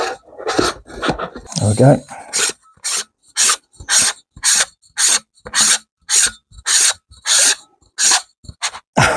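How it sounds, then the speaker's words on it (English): A scope sunshade threads onto the objective of a DiscoveryOpt ED-PRS 4-20x52 rifle scope, giving a steady series of short, evenly spaced rasping turns, close and clear, after a brief spoken word at the start. "cap comes off, and then sunshade just screws on."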